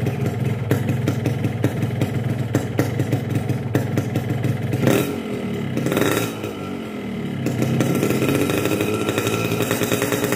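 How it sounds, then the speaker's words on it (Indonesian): A small two-stroke engine running Mesrania 2T oil buzzes and crackles at a rough, smoky idle, then is revved up sharply a few times with a raspy, rattling whine. "Coba gua geber dikit ya."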